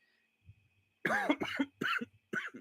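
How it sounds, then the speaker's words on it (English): A man coughs several times in a quick series of harsh bursts, close and loud, with a short pause before the last cough and no talk over it. "Excuse me for coughing."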